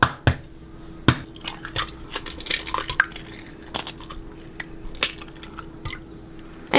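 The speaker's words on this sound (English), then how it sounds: "what you wanna do is crack your eggs" Eggs cracked into a bowl for a retro pineapple bake, heard as a few sharp taps and knocks with wet squishy drips and faint clinks of dishes, close and quiet with no talking.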